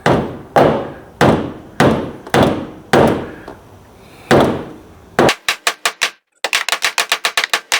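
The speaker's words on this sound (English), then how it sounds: "I'm going to get a rubber hammer in there, pound that out a little bit." A rubber hammer taps the bent edge of a damaged car door, first in a series of about seven spaced, dull thuds, then a quicker run of lighter, closer taps after a brief pause.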